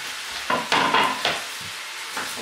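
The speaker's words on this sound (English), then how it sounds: "fry the onions." Onions fry in a pan for a venison casserole, with a soft constant sizzle broken by several close scraping stirs in an uneven rhythm, no talking.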